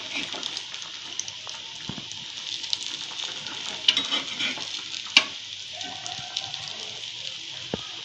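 Coriander cutlets (kothimbir vadi) sizzle steadily in hot oil while being flipped one by one, a continuous close crackle punctuated by sharp clicks of a spatula against the pan.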